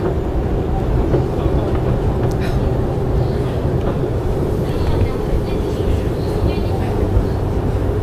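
Steady broadband rumble and rattle of a moving MRT train carriage in Singapore, continuous throughout, with a faint hum and occasional squeaks over it.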